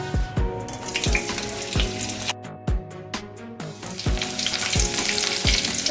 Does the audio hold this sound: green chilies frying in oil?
yes